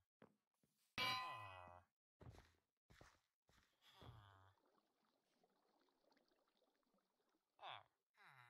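A bell in a video game town square strikes once with a loud metallic clang that rings out and decays, followed by a second fainter strike and scattered game sounds, with occasional voice in between.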